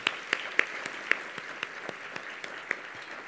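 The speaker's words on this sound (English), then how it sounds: "So let's just give them a round of applause." A few scattered claps from a meeting audience at a civic brainstorm event in Fort Worth, sparse, irregular and fairly quiet, fading rather than building.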